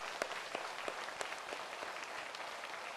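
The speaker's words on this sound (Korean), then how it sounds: "일어섰다 생각하고 나갈 때는 한번 일어서서 박수 한번 합시다." Dense applause from a standing church congregation at an Easter service, sustained and even for the full stretch with a few sharper claps poking through, fairly distant and diffuse with no voices on top.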